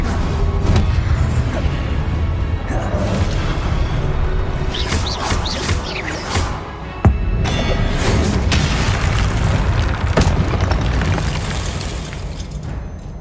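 Confringo fire spells in Hogwarts Legacy on PS5 burst repeatedly amid continuous loud combat noise, with sharp blasts and cracks standing out over a dense rumbling background.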